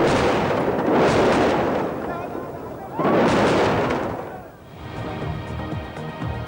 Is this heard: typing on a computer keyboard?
no